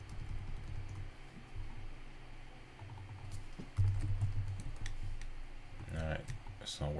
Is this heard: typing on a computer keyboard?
yes